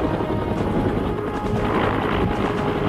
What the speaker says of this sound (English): In the form of an Air Force helicopter.